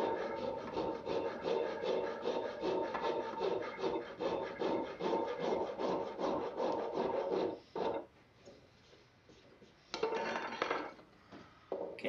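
A rasp files a wooden handle at a 45-degree angle in quick, steady strokes, a dry scraping rhythm for about eight seconds, then a pause and a few more short rasping passes, close and alone.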